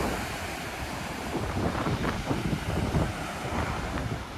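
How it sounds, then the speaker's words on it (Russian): Atlantic Ocean surf rolling onto a wild, deserted beach on the Algarve coast in southern Portugal, steady broadband wash of breaking waves mixed with gusting wind buffeting the microphone, continuous and fairly loud throughout. "Океан Атлантический."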